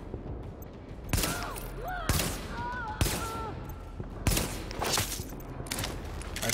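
Sniper gunfire in the video game Tom Clancy's The Division: about half a dozen sharp, loud shots crack out at irregular intervals of roughly a second, with brief chirping game tones between them.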